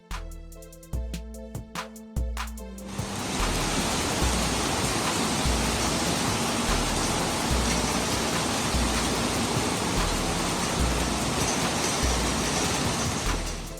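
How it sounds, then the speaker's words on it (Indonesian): Flash-flood water in a river in Melawi, West Kalimantan, after days of heavy rain, a loud continuous roaring rush that follows a few seconds of scattered knocks and clatter. "Banjir di Kabupaten Melawi, Kalbar."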